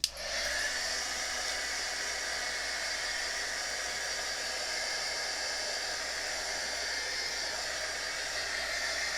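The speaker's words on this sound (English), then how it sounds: "My good old heat gun." An old heat gun, once used for scrapbooking, blows hard over wet stencil ink in a magazine journal, starting with a click and then a steady, loud airy roar that holds unchanged for about nine seconds.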